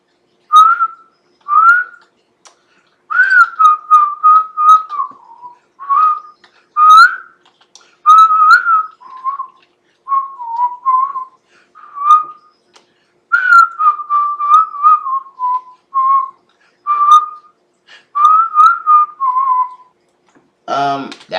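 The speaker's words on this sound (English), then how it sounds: "I can whistle." A person whistles a wandering tune in short melodic phrases with brief pauses between them, clear and close, ending with a short burst of breathy noise.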